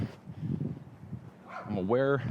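Several dogs bark and yelp close by outdoors, with a burst of loud, tonal barking near the end over a rumbling background.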